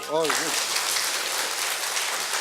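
An audience at a Korean citizens' academy lecture on the provisional constitution breaks into steady applause, a broad wash of clapping that follows a brief voice at the start.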